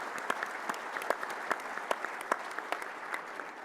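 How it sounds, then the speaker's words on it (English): A conference audience at a district energy panel gives a sustained round of applause, with dense steady clapping and a few sharper individual claps standing out throughout. "Let's give our panelists a nice round of applause,"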